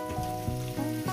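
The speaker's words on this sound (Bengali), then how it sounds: "আমি পেঁয়াজগুলো গরম তেলের মধ্যে, গ্যাস আমার জ্বলছে, একদম লোতে দেওয়া আছে, দিয়ে দিলাম পেঁয়াজ কুচোগুলো" Chopped onions hit hot oil in a pan over a low gas flame, making a brief, close sizzle with a faint tonal hum running beneath it.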